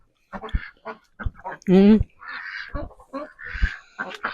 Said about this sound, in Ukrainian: А це ж качки.